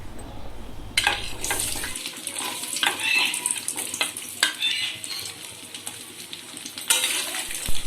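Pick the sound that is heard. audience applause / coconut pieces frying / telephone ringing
coconut pieces frying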